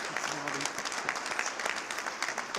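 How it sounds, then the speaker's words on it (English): Scattered clapping from a small group at a university commencement ceremony, fairly quiet, with a voice briefly heard at the start. "we just need to give her a big round of applause"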